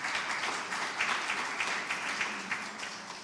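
Audience applause at a district research day event, a steady wash of many hands clapping at moderate level, slightly distant, tapering a little toward the end.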